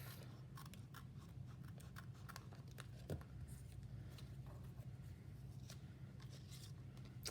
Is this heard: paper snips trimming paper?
yes